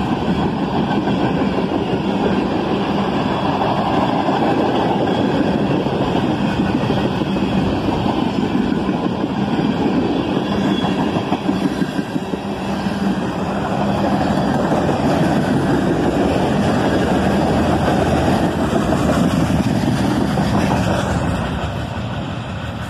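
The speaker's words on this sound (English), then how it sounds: "This was definitely a beast of a manifest train, befitting of its 6 locomotive lash-up." A long BNSF manifest freight train of boxcars, pulled by a six-locomotive lash-up, rumbles past close by with a loud, steady roar and rhythmic clatter of wheels over rail joints.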